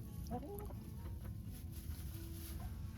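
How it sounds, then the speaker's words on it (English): Rhode Island Red chickens clucking softly nearby, a few short murmuring clucks and one longer drawn-out note over a low, steady background hum. "integrating our chickens, our 2 new Rhode Island Reds"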